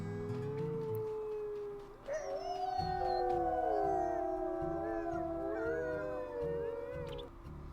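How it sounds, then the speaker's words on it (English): A wolf howls in a video game, long sustained wavering calls from more than one animal overlapping loudly over a low rhythmic background music beat, with no talk during the howling. "Alright, let's give a nice little howl in here."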